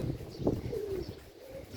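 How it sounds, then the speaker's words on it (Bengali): Pigeons coo on a house rooftop, a few low, close, rolling coos over quiet background, with no talking. "কবুতরের ডাক, বাকবাকুম বাকবাকুম"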